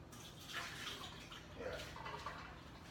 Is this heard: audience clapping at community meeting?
no